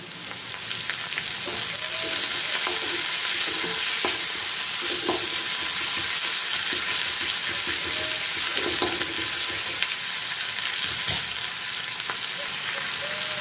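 Frying in a pan while making a spiced brinjal bharit with coriander: a steady, close sizzle with occasional stirring clicks and scrapes, and no talking.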